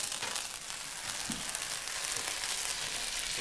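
Pork fillet fries in a hot pan, giving a continuous loud sizzling hiss up close with faint crackles and no voices.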